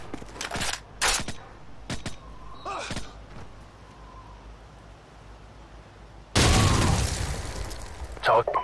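A grenade blast in the video game Call of Duty 4: Modern Warfare erupts loud and broad near the end, following scattered gunfire-like bangs and brief shouts from in-game voices.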